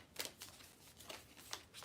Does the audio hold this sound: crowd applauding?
no